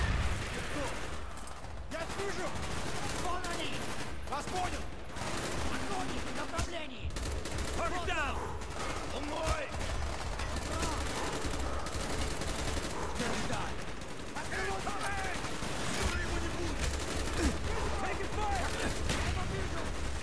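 Dense, sustained gunfire roars through a Call of Duty: Black Ops battle as machine-gun bursts and heavy shots overlap almost without pause for twenty seconds, loud and close, while voices speak under the din.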